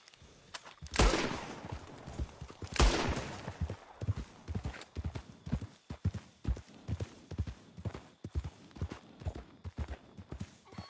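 A horse gallops in Red Dead Redemption 2, its hooves pounding in a fast, steady rhythm after a couple of loud opening thumps, close and clear with no talk.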